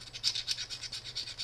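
A fire steel is scraped in quick repeated strokes, about eight faint rasping swipes in a steady rhythm over a low background hum.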